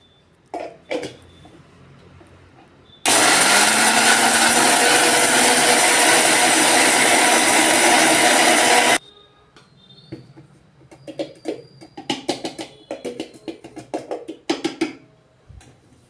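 A kitchen mixer jar grinds roasted cumin and spices into fine powder, a loud, steady whirring roar lasting about six seconds. Softer clatter and handling knocks come before and after it.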